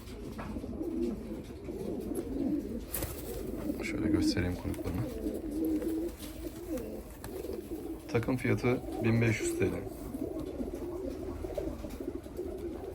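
Red-tailed Rostov pigeons, a male and female pair, coo softly in low repeated rumbling phrases beneath someone talking throughout, with a brief louder burst of cooing near the end.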